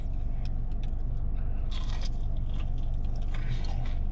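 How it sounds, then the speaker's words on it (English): Hard, dry fried chicken sandwich with bacon and unmelted cheese being bitten and chewed close up, a run of crisp, irregular crunches over a constant low background hum. "You see how hard it is to bite and chew and swallow it?"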